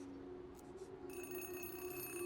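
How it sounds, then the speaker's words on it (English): A payphone rings in the video game Zero Parades, a faint steady electronic ringing tone that starts partway through and continues over quiet background hum. "The ringing feels like it's come from another reality entirely."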